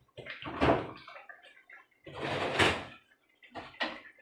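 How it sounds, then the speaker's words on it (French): Water poured into a container and stirred, with three bursts of splashing and sloshing, close and fairly loud, separated by short pauses. "je remue, je rajoute encore un peu d'eau dedans"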